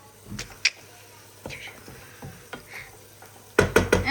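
Food frying in a pan while being stirred, with soft intermittent scrapes and utensil clinks that end in a louder burst of clattering and sizzling.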